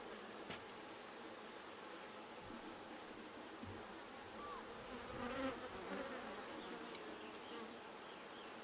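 Honey bees buzz steadily on a hive frame full of pollen and nectar, a soft, dense, continuous drone of many insects close by with no talking.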